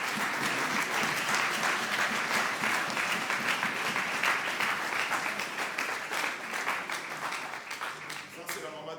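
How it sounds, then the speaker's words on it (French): A church congregation claps and cheers for honored parents, a loud, dense wave of applause with rhythmic clapping emerging, voices mingled in the crowd noise, fading slightly near the end. "pour que nous puissions les honorer avec les acclamations"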